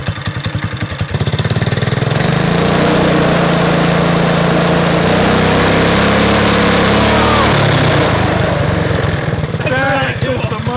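A go-kart engine fitted with a torque converter cranks over and catches, then runs at a loud, steady drone for several seconds before dropping back, close by, with faint voices near the end.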